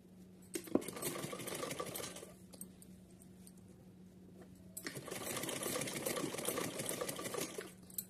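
Sewing machine stitching lace onto a small summer dress for a Laddu Gopal idol, running in two sustained bursts with a quieter pause between, close and steady.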